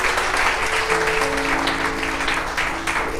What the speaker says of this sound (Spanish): Dáselo fuerte al Señor el aplauso